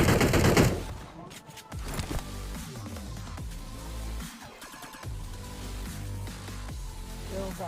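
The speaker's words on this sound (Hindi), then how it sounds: "तभी मुझे गोलियां पड़नी स्टार्ट हो जाती है।" Rapid bursts of video game gunfire crackle repeatedly, with sharp shots scattered across several seconds and a loud opening burst.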